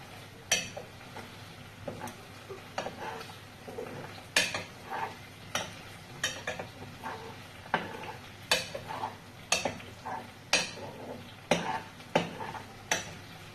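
Chicken being stirred in a pot for Filipino ginataang vegetables, with repeated scraping and clinking of a utensil against the pot in an irregular rhythm, close and moderately loud over a faint sizzle.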